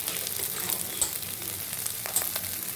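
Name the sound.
brinjal pieces frying in pan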